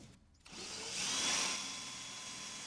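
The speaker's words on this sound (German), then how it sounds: "Mit einem Bohrer macht man ein Loch für das Sägeblatt." A power drill bores a hole through the steel body of a VW Beetle being turned into a beach buggy, a close, steady whirring whine rising in strength and holding on without talk.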